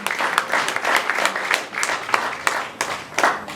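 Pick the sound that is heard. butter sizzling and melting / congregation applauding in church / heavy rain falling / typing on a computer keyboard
congregation applauding in church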